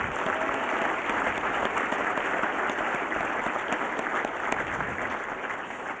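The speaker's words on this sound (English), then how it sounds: "Let's give them one more round of applause" Dinner guests at an annual business dinner giving sustained applause, a dense, even wash of clapping that holds steady before easing slightly at the end.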